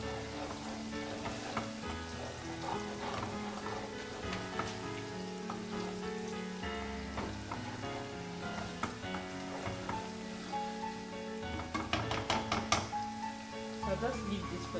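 Food sizzles and crackles steadily in a hot pan, with occasional stirring clinks and brief bursts of louder spattering.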